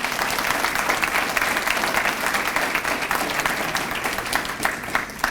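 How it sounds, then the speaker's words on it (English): An awards-ceremony audience claps for an honoree at the Shining Apple Awards, dense sustained applause from many hands filling the room evenly from start to finish, with a few scattered voices underneath. "So a big round of applause for Brian."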